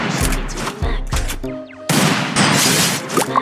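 Gunfire in the Free Fire video game comes as loud, punchy bursts of shots with a brief lull between volleys.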